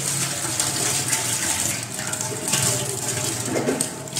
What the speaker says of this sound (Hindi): जो टमाटर पहले धो लेंगे फिर दोबारा से काट लेंगे।